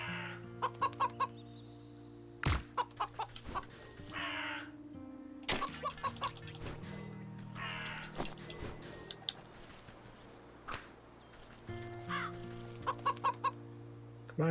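Rooster in the video game Wytchwood: repeated bursts of clucking and crowing calls, close and fairly loud, against a steady game music background with no speech.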